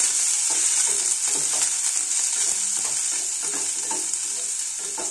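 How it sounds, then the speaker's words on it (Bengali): Chopped spring onions and green chillies sizzle in hot oil in a pan, stirred continuously with soft scraping strokes over a bright, steady hiss, close and clear with no talking. "পেঁয়াজ কলি ও কাঁচা লঙ্কা খুব সুন্দরভাবে নাড়াচাড়া করে নেব"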